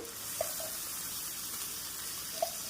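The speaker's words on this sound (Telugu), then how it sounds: "ఇప్పుడు దీంట్లో చికెన్ వేసుకుందాం కారం అన్నీ వేసినాక చికెన్ వేసుకుందాం" Chicken pieces cooking in a hot pan with chilli powder for a gongura chicken fry, a faint, even sizzle running throughout with a couple of soft clinks of a spoon against the pan.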